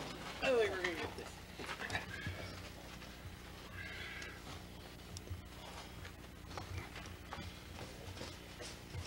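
Quiet hoofbeats clopping from an untrimmed draft horse at a distance, with a brief whinny near the start and faint voices in the background.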